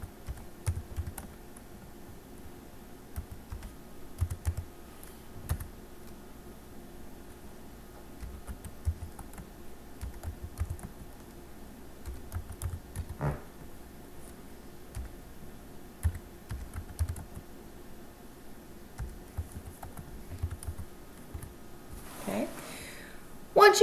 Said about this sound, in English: take a minute and type all that in